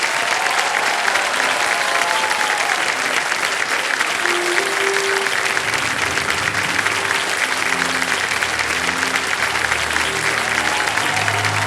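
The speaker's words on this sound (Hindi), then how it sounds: "मैं चाहता हूं कि तालियों के साथ उनका अभिनंदन किया जाए" A large studio audience on the KBC game show applauds in sustained, dense clapping that fills the whole stretch at an even level. A faint tonal music bed plays underneath.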